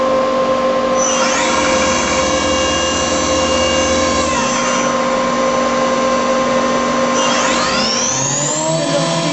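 A 1998 Star SV-20 CNC Swiss-type lathe's main spindle winds up toward 10,000 RPM, a loud steady whine rising in pitch with a steady machine hum beneath it, then shifting again near the end.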